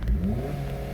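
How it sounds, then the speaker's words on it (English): A Ford 7.3 IDI diesel ramp truck engine revs briefly, a low rising drone close by with a slight rattle and no talk. "Gotta keep the revs up now, you know."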